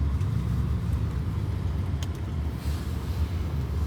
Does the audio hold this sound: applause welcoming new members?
no